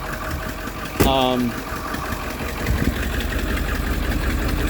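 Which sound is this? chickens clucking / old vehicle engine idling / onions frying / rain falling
old vehicle engine idling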